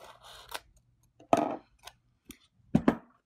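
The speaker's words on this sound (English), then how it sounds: "So I'm gonna go ahead and cut my transfer tape." Scissors snip through transfer tape in a handful of short, crisp cuts, close up in a quiet room, with a pair of quick snips near the end.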